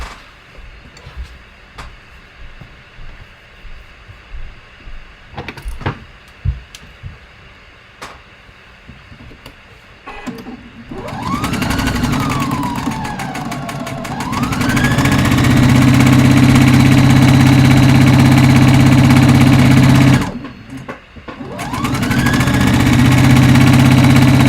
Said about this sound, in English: let me sew these here